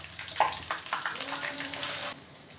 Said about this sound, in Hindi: तो यहाँ पर हमारी इस पहले से कढ़ाई में घी अच्छे से गर्म हो गया है। और अब हम जो है ना बैंगन को अच्छे से फ्राई कर लेंगे।